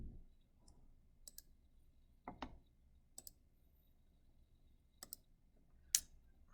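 A handful of light, scattered key clicks at a computer keyboard as a short math answer is entered, separate faint taps in a quiet room.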